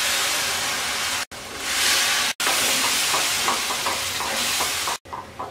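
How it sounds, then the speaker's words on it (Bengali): Tomato puree hits hot, sizzling masala in a pan while cooking shol fish dum biryani. The loud hissing sizzle and stirring go on steadily, broken by a few abrupt cuts. "এবার দিয়ে দিচ্ছি 3টা টমেটো পিউরি"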